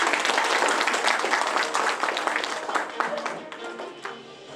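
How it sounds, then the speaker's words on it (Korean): An audience at a residents' forum with a National Assembly member claps to open the event, with loud, dense applause that gradually thins and fades toward the end. "박수 부탁드리겠습니다."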